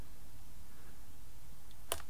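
A single sharp click as the trim button is pressed on a Futaba RC transmitter, heard against a quiet, steady background hiss.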